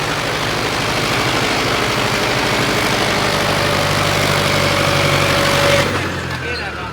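A Mahindra CRDi 655 tractor engine idles steadily and loudly up close, a deep rumble with a steady whine that cuts off sharply near the end as the engine note drops.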